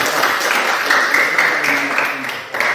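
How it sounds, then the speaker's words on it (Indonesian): Students in a physical education class clap together after a gymnastics exercise, loud close-up applause with some voices mixed in. "Berikan tepuk tangan."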